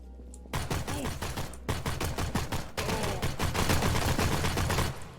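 Held-down shooting in the video game Postal 4 sounds as long, loud bursts of rapid-fire gunshots, broken by brief pauses between strings of fire.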